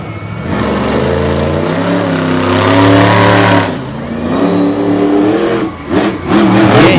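A monster truck engine at the Jennerstown 2020 event revs hard and loud as the truck smokes its tires, rising in pitch, dipping briefly and then surging again in close, sustained bursts.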